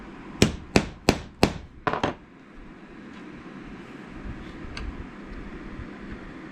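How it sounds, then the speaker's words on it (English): A hammer strikes a steel transfer punch to mark screw holes for a homemade fish finder swivel mount, giving four sharp, evenly spaced metallic taps, then a quick double tap, close and clear, followed by quieter shop noise. "I'll take a transfer punch and mark our holes here"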